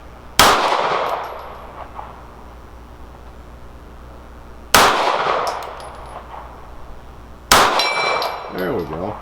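Three loud metallic clangs from 9mm bullets striking steel gong targets at 50 yards, fired from an STI Elektra pistol, each strike sharp and ringing out before the next, spaced a few seconds apart.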